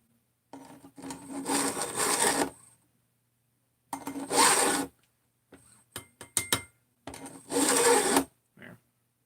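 A hand file scrapes a cutter hook to sharpen its angle, several separate rasping strokes in short bursts with silent pauses between them, close by and fairly quiet.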